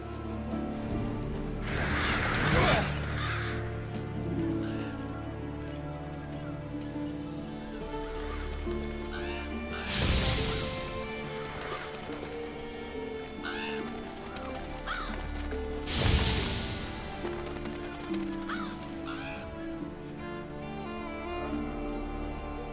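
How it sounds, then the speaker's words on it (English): Black scavenger birds caw in Monster Hunter World's Witcher crossover quest, the harsh calls surging in three loud bursts over a dense game soundtrack with swelling musical tones between them. "Seems the black birds are the culprits."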